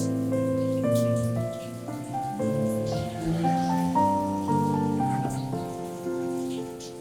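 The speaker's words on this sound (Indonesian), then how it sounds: "semoga tidak terlalu ribut suara hujannya." Steady rain falls throughout as a constant hiss, mixed beneath louder melodic music that carries on the whole time.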